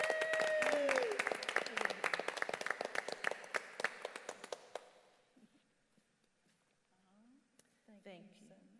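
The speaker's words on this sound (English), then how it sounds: "So let's give her a round of applause." People at a PCCS board of directors meeting clap in a full round of applause, which thins to scattered claps and dies away over several seconds before voices come in.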